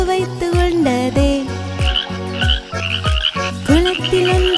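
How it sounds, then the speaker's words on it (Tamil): Green frogs croak in a steady repeating pattern over bright, bouncy music in a Tamil children's nursery rhyme, loud and close throughout with no talking. "2 பச்சை தவளைகள் கட்டையின் மேல் அமர்ந்து வண்டுகளை சுவைத்து உண்டதே."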